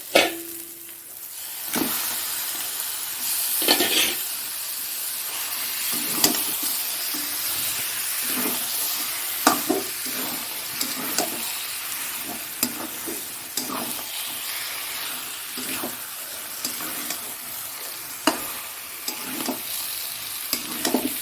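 Chicken meat fries in a pan with a loud, continuous close sizzle, broken by repeated scraping stirs and clacks of a utensil against the pan.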